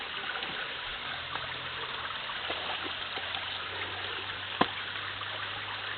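Creek water flows steadily in a broad, continuous rush close by, with a faint low hum beneath and one sharp knock partway through.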